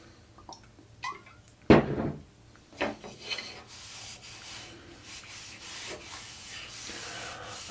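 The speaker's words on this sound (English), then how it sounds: "I just put some oil on the cotton shirt and then rub it on the utensils." Cotton cloth soaked in walnut oil rubbed over wooden kitchen utensils, giving soft scuffing and wiping strokes with one sharper knock near the start, then a steady low rubbing hiss close by.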